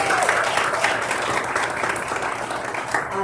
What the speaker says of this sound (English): One more round of applause for Davion.